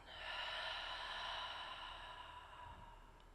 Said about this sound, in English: Open the mouth and breathe it out.